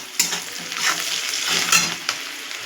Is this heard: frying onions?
yes